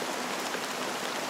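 Steady rain falling in Honkai Star Rail, a dense, even hiss of drops spread evenly throughout, with no talk.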